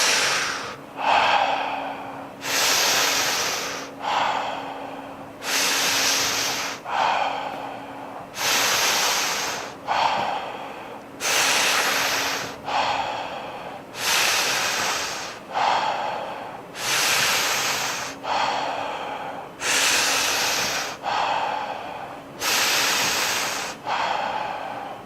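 Deep, active breaths during a guided breathing exercise, with forceful inhales and exhales repeating in a steady rhythm about every two seconds, close and clear, with no talking.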